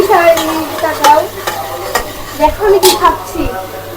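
A spatula scrapes and stirs spices frying in a pan in a home kitchen, with repeated sharp clattering strokes over a steady, close sizzle.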